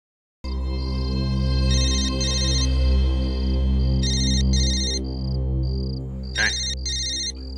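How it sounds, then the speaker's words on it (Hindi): A phone rings with repeated electronic chirping bursts over a loud, steady low hum, the pattern recurring a few times. "फोन बज रहा है तेरा।"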